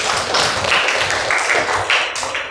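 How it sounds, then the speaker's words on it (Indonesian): Schoolchildren clap their hands together in a classroom, a steady run of overlapping claps at moderate loudness with no talk. "tepuk tangan buat kita semua"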